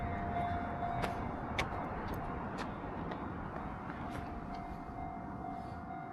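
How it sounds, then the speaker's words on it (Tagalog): A distant train rumbles steadily with faint rail clatter, a low continuous roar and a thin high whine running through it. "So may tumutunog na tren."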